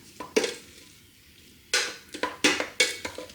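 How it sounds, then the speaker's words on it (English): Brown rice cooked in an Instant Pot mini being stirred with a utensil, giving a few sharp scrapes and clinks against the inner pot, separated by quiet gaps. "then just give it a quick stir"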